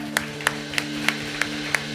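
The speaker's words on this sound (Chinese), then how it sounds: "我们先用掌声欢迎他们。" A church congregation at a Sunday service claps in slow unison, six sharp, evenly spaced claps over a steady low hum in the hall.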